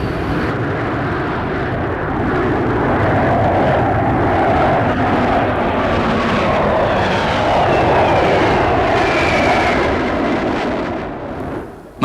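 Aircraft at a crowded RAF airbase flying display, a loud sustained engine roar that swells and holds steadily for about twelve seconds before easing at the end.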